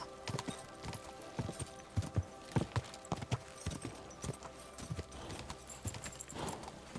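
Horse hooves clatter in Kingdom Come: Deliverance 2, a run of sharp clip-clop impacts in a quick galloping rhythm, fairly close and distinct, with faint game ambience beneath.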